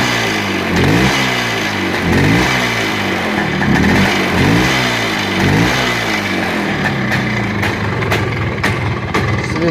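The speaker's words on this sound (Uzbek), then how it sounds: "Motorlar quloq solishimiz hozir gaz berib ko'ramiz." A motorcycle engine is revved repeatedly in loud, close rising and falling surges at a steady rhythm, then settles toward a rougher, choppier running sound near the end.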